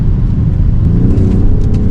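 Mercedes GLE 53 AMG 2023 with an inline six-cylinder engine and 48-volt electrical system, heard as a loud, steady low rumble of the engine running throughout, without voices.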